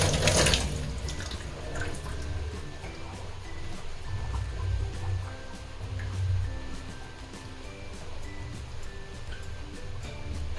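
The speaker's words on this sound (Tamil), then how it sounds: "கொஞ்சம் லைட்டாக பச்சை தண்ணி போட்டு" Steady running water splashing into a bowl to rinse goat brain, close and continuous, with a brief louder gush at the start.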